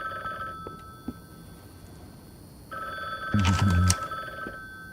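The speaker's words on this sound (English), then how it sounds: "That is our phone, by the way," A telephone rings in the video game The Bookwalker, faint distant bell bursts heard in two rings separated by a pause, with a louder low thump near the end and no talk.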